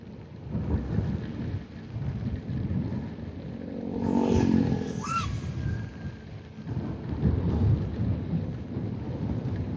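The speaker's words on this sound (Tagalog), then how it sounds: "Kidlat yun ah." Deep thunder rumbles and rolls over a steady downpour, swelling loudly midway, with rain noise constant throughout.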